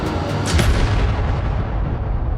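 A gunshot in a Stranger Things season 5 episode, a loud booming blast with a sharp crack at the start, followed by a sustained low rumbling wash that carries on at high level without any speech.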